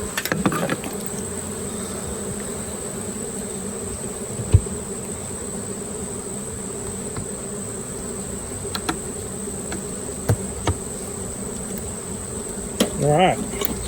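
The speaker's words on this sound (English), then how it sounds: "and that's how we transfer a swarm to a main hive" A honey bee swarm hums continuously while being moved into a Layens hive, a steady close buzzing with occasional bees zipping past and a few soft knocks.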